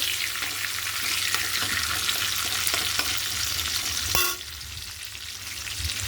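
Capsicum fries with cumin seeds in hot oil while being stirred, a steady close sizzle with light spoon taps that eases into a softer hiss after a clatter around four seconds.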